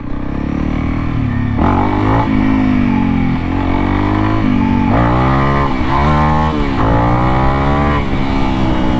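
A Honda CRF 300L with an airbox mod, Stage 1 ECU tune and MotoX exhaust revs hard and close up while being ridden, its engine note climbing and dropping in repeated surges over a constant loud drone.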